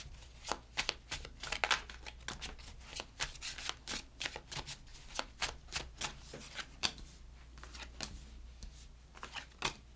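Tarot cards riffled and shuffled by hand, a quick run of crisp, close flutters and taps repeating steadily throughout with no talking.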